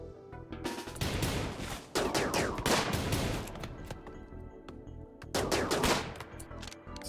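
Colonists laying down covering fire in RimWorld: several bursts of rapid gunfire, sharp and loud, coming in clusters with brief pauses between volleys.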